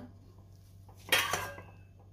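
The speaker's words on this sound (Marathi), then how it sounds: "आता ह्यामध्ये मी वरतून थोडी कोथिंबीर घालते आणि खिचडी एका प्लेटमध्ये काढून घेते." Bhogi khichdi topped with coriander is spooned out onto a plate: a brief metal-on-plate scrape and clatter in the middle of an otherwise quiet kitchen moment, close by.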